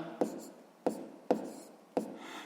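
A pen writes out a fraction during a sixth-grade math lesson, making four short scratchy strokes spaced about half a second apart. The scratches are close and faint, with no talk over them.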